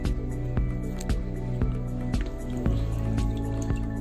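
Water drips into an aquarium bag or container during slow drip acclimation of fish, with sharp drops landing at a fairly regular pace over a steady low background hum.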